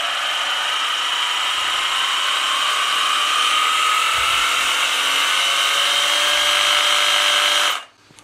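A power drill with a slow-start feature whirs at a steady, fairly low speed for several seconds during radiator replacement work, then cuts off abruptly near the end.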